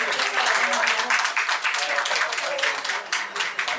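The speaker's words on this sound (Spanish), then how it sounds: "Un fuerte aplauso una vez más para nuestro querido arquitecto" An audience applauding at a lecture, with dense, sustained clapping from many hands throughout.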